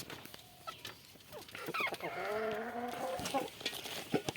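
A desi hen clucks and cackles in a drawn-out, throaty run before laying eggs, fairly close, with a person talking nearby in the yard.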